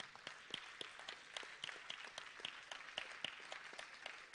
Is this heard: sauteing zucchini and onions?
no